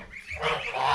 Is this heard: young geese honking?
yes